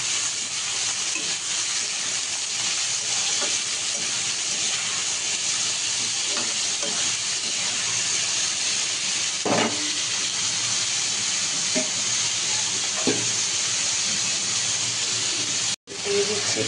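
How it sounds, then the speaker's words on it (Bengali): Vegetables sizzle steadily in hot oil in a pan while pasta is being cooked, a constant close frying hiss with occasional pops and stirring clicks, ending in a brief cut near the end. "তেল বসিয়ে দিয়েছি, তেলটা গরম হয়ে গেছে। সবজিগুলো দিয়ে দিলাম।"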